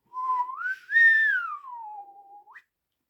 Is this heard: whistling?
yes